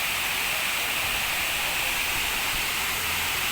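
Hinulugang Taktak waterfall in Antipolo City pours with a constant loud hiss and roar, a dense unbroken wash of falling water with no talking.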